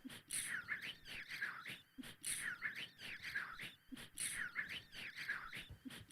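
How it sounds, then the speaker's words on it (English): Looped bird noise samples repeat in a regular two-second cycle during a live looping jam with a harp, bright chirps and whistled warbles recurring steadily at moderate level without talking. "I'm going to start pulling some"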